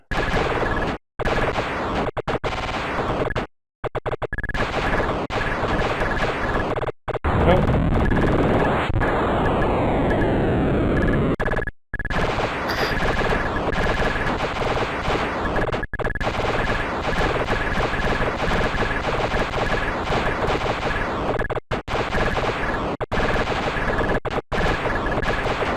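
Rapid continuous shooting in the Microsoft Arcade (1993) game collection on Windows 3.x, dense repeated electronic blasts and explosion-like bursts sustained loudly throughout, with brief gaps of silence between rounds and no music.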